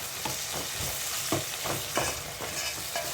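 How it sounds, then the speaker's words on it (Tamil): Tomatoes sautéing in a pan for chicken gravy: a close sizzle broken by regular spatula strokes scraping the pan about every half second. "இப்போ தக்காளியும் சேர்த்து நல்லா வதக்கிச்சிருவோம்"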